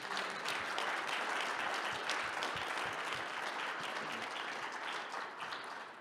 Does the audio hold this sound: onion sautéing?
no